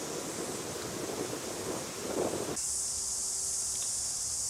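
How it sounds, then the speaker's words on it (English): Steady wind rushes and buffets the microphone with a broad hiss, then cuts abruptly to a thinner, quieter hiss partway through. "And there was a bit of wind as well"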